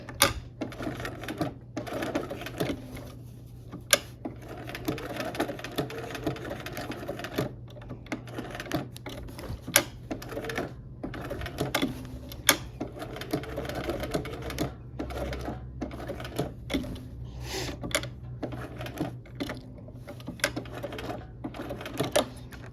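A sewing machine stitches in short, repeated runs with the needle left down for pivoting, producing a soft mechanical whir punctuated by sharp clicks and brief pauses, close and fairly quiet throughout.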